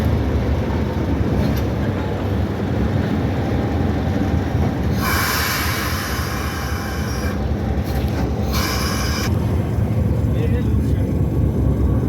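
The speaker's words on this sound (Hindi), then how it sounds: "अब जो है वापस बैक हो रहे हैं और इंजन काफ़ी ज़ोर लगा रहा है क्योंकि लोड ज़्यादा है" A heavy Pakistan Railways freight train reversing with its locomotive straining under load on a curve in a large yard at Quetta, a loud continuous rumble of engine and rolling wagons with bursts of high wheel squeal partway through.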